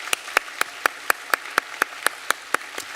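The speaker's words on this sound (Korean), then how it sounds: "우리 박수로 환영하겠습니다." A church congregation at a Sunday service claps to welcome newly registered member families, though only a sparse, steady beat of about eleven sharp claps comes through, evenly spaced and fairly close.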